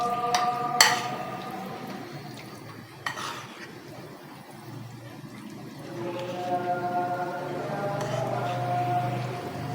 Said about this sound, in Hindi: अच्छे से मिक्स कीजिएगा।